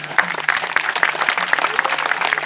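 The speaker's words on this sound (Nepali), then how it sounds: "एकपल्ट जोरदार ताली सम्मान।" Audience applause at a school programme after a khukuri display: dense, loud, close clapping that keeps up steadily throughout the short burst.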